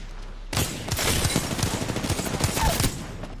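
Video game gunfire, a sudden sustained barrage of rapid shots starting abruptly and rattling on for nearly three seconds, loud and close with no talk.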